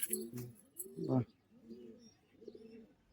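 Soft, low cooing from pigeons at a West Bengal pigeon sale comes in a few short rounded phrases, fairly close and quiet, with a brief chirp and voices talking around them.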